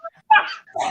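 A dog at a rodeo gives short, sharp barks and yips, two quick bursts close together, fairly loud and clear.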